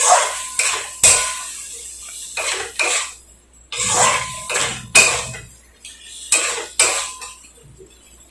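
Potatoes and green peas being stirred and sautéed in a pan for a Bengali aloo dum potato curry, with a utensil repeatedly clinking and scraping against the metal in irregular bursts, close and fairly loud.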